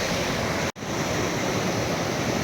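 A mountain stream on the Dara Harwan trek, whose water flows on into Dal Lake, rushes steadily and loudly close by, broken by one brief dropout near the start and with no voices.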